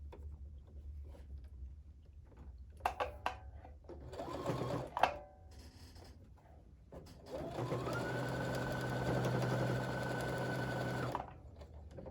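A sewing machine stitches quilt units for a sampler quilt, with a few short starts and handling noises first, then a steady, fairly loud run of several seconds before it stops.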